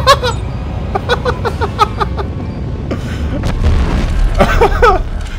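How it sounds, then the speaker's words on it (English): Torpedo launch and explosion in the sci-fi shooter Dead Space 3, heard as a series of sharp booming bursts and crackling impacts, loud and close, with rumbling debris between hits. "Torpedo away"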